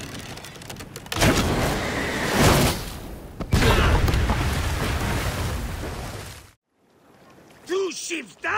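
Heavy explosions from warships blowing up on the water in Assassin's Creed Origins, two long roaring booming blasts with rumbling debris, then a sudden cut to quieter sounds.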